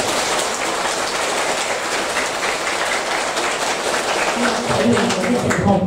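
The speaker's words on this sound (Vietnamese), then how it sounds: "Chúng ta có thể cho một vài tràng pháo tay to thật lớn." A large audience at a Vu Lan Buddhist sermon applauds loudly, a dense, continuous roar of clapping that holds steady for several seconds.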